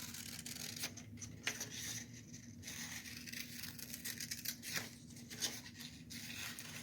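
Steady scissors snipping through paper to cut out heart shapes for a pumpkin craft, a soft continuous rasping with faint rhythmic cuts, close and quiet.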